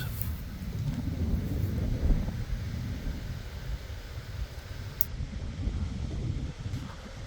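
Strong wind roars steadily across the microphone, a dense low rumble that barely lets up, with no voices.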